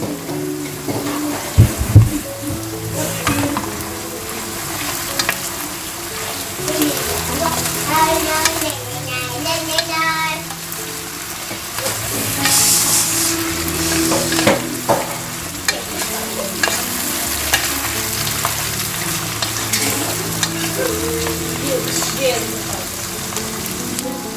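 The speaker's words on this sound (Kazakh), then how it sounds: "Және қызанақты салып қуырамыз." Tomatoes fry and sizzle steadily in a pan, with a constant crackling hiss and occasional scraping stirs throughout.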